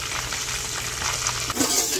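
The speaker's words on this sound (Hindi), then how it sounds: "तेल हमारा गर्म हो गया है, इसमें चिकन को फ्राई कर लूंगी।" Chicken pieces fry in hot oil with a steady, dense crackling sizzle, close and continuous throughout the short moment.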